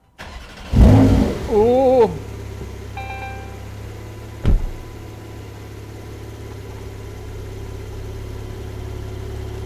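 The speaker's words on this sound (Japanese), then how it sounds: "一回もう一度エンジンかけます" Porsche 911 Turbo S Cabriolet (992) engine cranking and firing up with a sharp rev flare, then settling into a steady low idle, with a brief exclamation from a person nearby.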